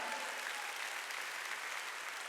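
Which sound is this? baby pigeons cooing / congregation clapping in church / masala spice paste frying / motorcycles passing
congregation clapping in church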